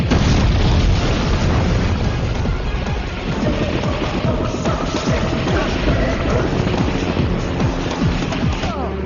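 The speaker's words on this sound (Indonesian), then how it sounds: "Ram menjauh dari si Ragavan karena dia telah melepaskan pin granat yang ada di tubuhnya." Grenade blast in a film action scene, a loud, dense rumbling boom with ongoing debris and dramatic background noise filling the whole stretch.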